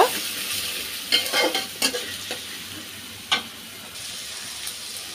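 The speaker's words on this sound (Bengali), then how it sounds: "পেঁয়াজ আর রসুনটা দিয়ে দিলাম। এটা একটু ভেজে নেব কাঁচা গন্ধ যাওয়া পর্যন্ত।" Onion and garlic frying in a pan, a steady sizzle broken by a few sharp spatula scrapes and stirring clicks close by; no one talks.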